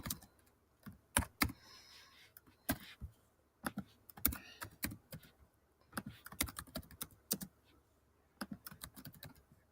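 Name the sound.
typing a quiz question on a computer keyboard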